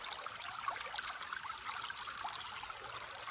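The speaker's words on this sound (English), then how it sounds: "As you watch the gentle flow of this creek, imagine God leading you beside these waters." A creek flows gently, a soft, steady trickle and babble of water with small scattered splashes, quiet and continuous.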